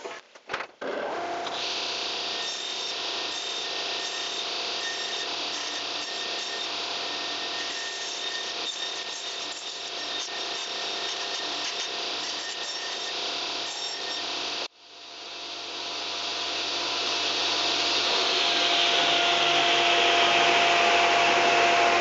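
A power saw cuts wood for a trait de Jupiter scarf joint in a closet partition, running as a loud, steady whine for about fifteen seconds, then changing to a quieter rising hum.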